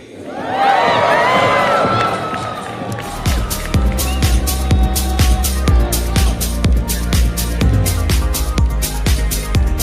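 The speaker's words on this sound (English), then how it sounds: "And now, keep that cheer going" A crowd cheers and shouts at the Miss World 2025 grand final in Hyderabad, loud and sustained, over a steady, punchy stage music beat.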